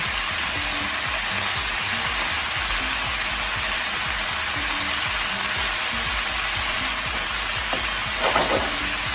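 Food sizzles steadily in a pan over a gas flame, a dense, continuous frying hiss that stays loud and even throughout with no talking.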